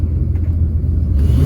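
A Ford E-350 Econoline van engine, running lean, rumbles loud and close in a low, steady idle drone that swells slightly near the end as the throttle is snapped.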